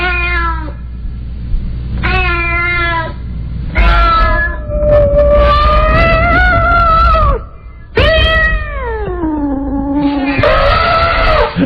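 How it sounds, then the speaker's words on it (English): Cats yowl and screech loudly in drawn-out, wavering howls, several bursts one after another with short gaps, close by. "here's the cat fighting."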